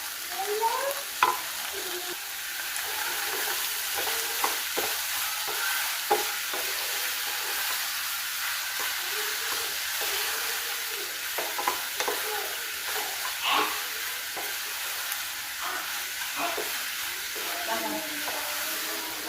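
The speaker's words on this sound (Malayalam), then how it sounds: "ഇനി നമുക്കിതിലേക്ക് കുറച്ച് ഉപ്പ് കൂടി ഇട്ട് നന്നായിട്ട് ഇളക്കി കൊടുക്കാം." Onions with salt fry and sizzle in a pan for beef curry, a steady hiss broken by soft scraping stirs and occasional taps, heard close and alone with no talk.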